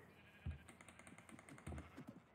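Sheep bleating in the video game Minecraft, two short bleats about a second apart, fairly faint over a low hum of game ambience with no talking.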